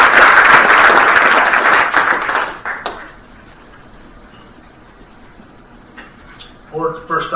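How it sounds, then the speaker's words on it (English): Round of applause at a school board meeting, dense clapping from a roomful of people for about three seconds, then fading to quiet room tone before a voice begins speaking. "Let's give him another round of applause."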